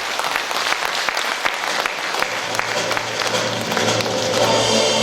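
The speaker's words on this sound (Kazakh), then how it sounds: "Сол кісілерге бір ду қол шапалақтап жіберейік." Audience applause at a school's 50th anniversary celebration in Aktau school, Taskala, West Kazakhstan: sustained clapping from a large crowd in a hall, steady and fairly loud, swelling slightly near the end.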